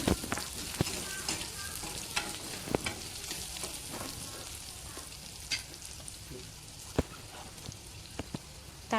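Mixed vegetables with carrot, potato and brinjal sizzle steadily in a pan for a curry, with frequent scraping taps and clinks of a spoon stirring through them, fairly close and without talk.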